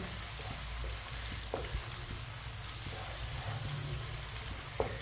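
Chopped onion sizzles steadily in oil in a pot for matar pulao, a soft continuous frying crackle with a few light stirring knocks, fairly quiet and close.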